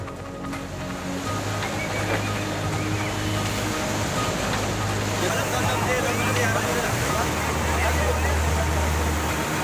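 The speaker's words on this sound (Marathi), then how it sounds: "त्यामुळे पूर्णा नदी पात्रात आता पाण्याचा मोठा विसर्ग सुरू आहे." Heavy release of water from opened dam gates into the Purna river during monsoon flooding, a loud continuous roar and rush with wind buffeting, steady from start to end.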